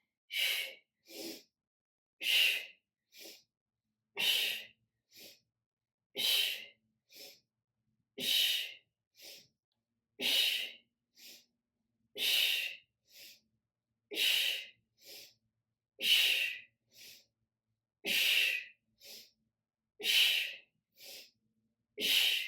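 Steady, heavy breathing during a kettlebell exercise, with sharp, forceful breaths alternating with softer ones in a regular rhythm, close and clear with no other sound.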